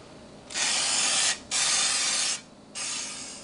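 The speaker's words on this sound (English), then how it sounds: "So I'm going to go ahead and start spraying these donut pans now." Three bursts of pressurized oil spray hiss onto donut pans, each about a second long with short gaps between, close and steady, no voices.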